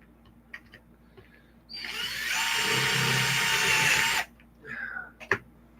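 Power drill enlarging stripped screw holes on an Arrma Kraton RC truck, one steady high whine lasting about two and a half seconds, close, with faint handling clicks before and after.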